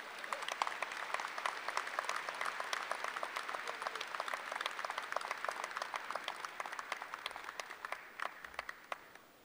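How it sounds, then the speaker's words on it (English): A large crowd applauds at a May university commencement, with thick, sustained clapping for about nine seconds that thins out and fades toward the end. "Let's give them one more round of applause"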